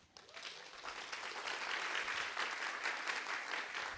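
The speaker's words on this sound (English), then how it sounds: "A round of applause, please." An audience at a youth summit breaks into applause, dense clapping that swells within the first half second and holds steady and fairly loud until the end.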